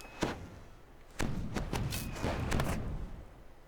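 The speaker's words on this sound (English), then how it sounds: "I've got to set off some firework." Fireworks go off in Lord of the Rings Online, with a sharp pop followed by a rapid string of crackling bursts, close and fairly loud, and no voices over them.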